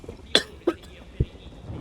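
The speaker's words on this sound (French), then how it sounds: "Excusez-moi, je tousse un peu" Three short, sharp coughs from someone with a sore throat, close to the mic, spaced unevenly, with faint background noise between them.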